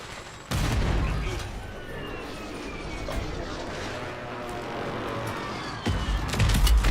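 Mortar fire in a video game: heavy blasts break over a constant roar of battle, one near the start and more close to the end, with a low, rumbling background between them.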